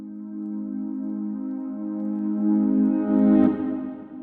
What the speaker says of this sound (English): I used a reverse piano chord.